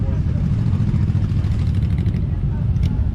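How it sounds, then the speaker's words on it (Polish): Several motorcycle engines idle and rumble together nearby in a dense, throbbing low drone. "się gromadzą motocykle, zobaczcie."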